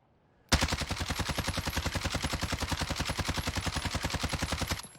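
A CR-56 AMAX rifle in Warzone fires one unbroken automatic burst of about four and a half seconds: rapid, evenly spaced, punchy shots up close with a steady low rumble beneath.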